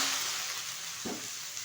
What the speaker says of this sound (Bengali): এটা কিন্তু ভালোভাবে ভেজে নিতে হবে।